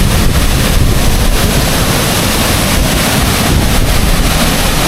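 A strong, fast-flowing forest stream rushes loudly and continuously, close to the microphone, as a steady broadband roar with some wind buffeting.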